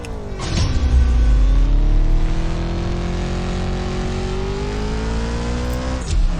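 A tuned Koenigsegg Gemera race car in the CSR2 racing game revs hard and accelerates, its engine tone climbing steadily through gears, loud and continuous with no talking.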